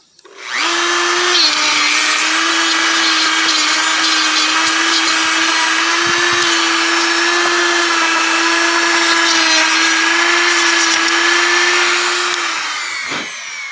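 A rotary tool spinning at about 19,000 RPM sands a wooden goblin carving, giving a loud, steady high-pitched whine that runs alone almost the whole time before spinning down at the end.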